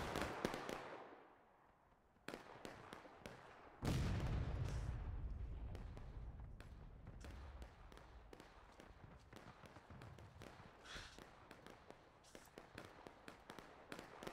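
Cannon artillery booms across a Civil War battlefield in the game War of Rights, with a few heavy distant blasts rolling out amid a steady crackle of scattered musket fire.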